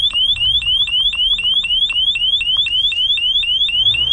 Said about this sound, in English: this particular lock here is alarmed